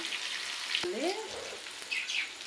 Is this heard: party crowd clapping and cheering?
no